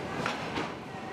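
A train rolling along tracks in Myanmar, a steady rumbling wash of wheels and carriage noise with faint rhythmic clacks, continuous and moderately loud throughout the short span.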